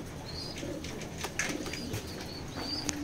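A pair of large checker pigeons, male and female, shuffle and flutter nearby, with soft coos, brief wing flaps and faint chirps scattered over a quiet background.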